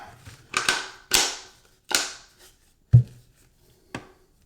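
Bolt of a Ruger PC9 carbine being worked back during reassembly: a handful of sharp, close metallic clacks and snaps spaced irregularly, with quiet gaps between them.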